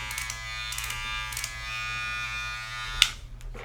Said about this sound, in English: sounds like a very powerful motor